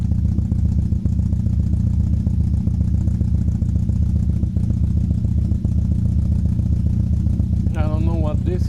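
A 1967 Triumph Spitfire MK3 engine idles steadily nearby with an even, low throb, while someone speaks over it and a brief vocal sound rises near the end.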